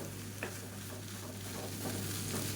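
Egg rice stirred in a pan over a high flame, a steady scraping and soft sizzle with a couple of sharper spoon taps, close and even throughout, with no voices.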